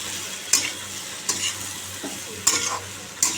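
Eggs sautéing in a pan with turmeric and salt sizzle steadily while a spatula scrapes and taps five times at uneven intervals, close and fairly loud.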